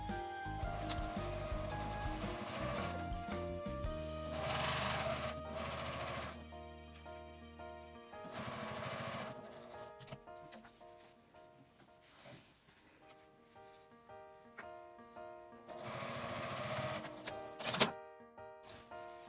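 Sewing machine stitching a box pouch about 5 mm from the fabric edge, a steady rapid mechanical chatter running in several bursts with brief pauses and clicks between them, close and fairly loud.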